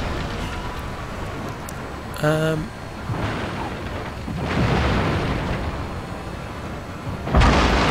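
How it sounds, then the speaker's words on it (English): Ships fire cannons in a naval battle in Shogun 2: Total War, Fall of the Samurai, giving a series of heavy booms and rumbling blasts. A brief tonal chime sounds early, and the bursts roll on at moderate loudness. "There's 4 ships firing at him."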